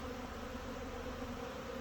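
Honeybees on their first spring flight outside the hives, a soft continuous buzzing hum of many insects at once, faint and steady with no voices.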